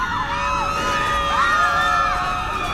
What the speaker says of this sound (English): That's when the screaming started.